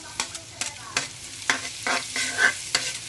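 Garlic sizzles in a pan of melted margarine and butter, with a steady fry under repeated close stirring scrapes and clicks of a utensil; no one speaks.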